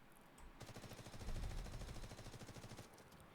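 Rifle gunfire with a red dot sight in the video game Delta Force, a steady fast string of automatic shots, fairly faint and distant in level, swelling slightly in the middle of the burst.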